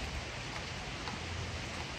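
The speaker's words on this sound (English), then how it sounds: "I really hope this rain doesn't continue into like Halloween." Rain falling steadily outdoors in late autumn, a dense, even hiss with no breaks, heard alone at a moderate, distant level with no voices.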